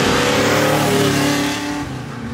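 A 650-horsepower Fastback Mustang race car engine revs hard through its mufflers, loud and close, with a dense, continuous roar that eases off slightly near the end.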